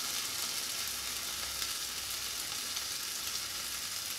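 Cinnamon French toast bread fries in a pan with a continuous, even sizzle, bright and crackly, heard close up with no talking.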